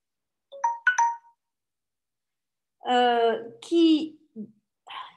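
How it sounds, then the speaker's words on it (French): A mobile phone ringtone plays during a talk, with a few short electronic chirps followed by louder melodic tones that come and go in bursts, close and clear against otherwise quiet surroundings. "Je suis désolée, j'ai oublié de couper mon téléphone."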